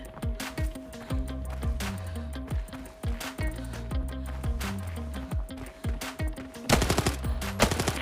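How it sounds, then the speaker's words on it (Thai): Rapid bursts of automatic gunfire crackle through an Arena Breakout match, repeated volleys across the whole stretch with a denser, louder flurry near the end. "ยังไม่ถึงด้านในก็ขยันพากันมายิงจริง ๆ"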